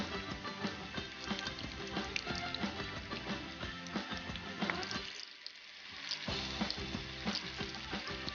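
Steady, crackling sizzle of zucchini fritters frying in hot oil, turned with tongs, continuous and close, with a brief dip in the bubbling partway through.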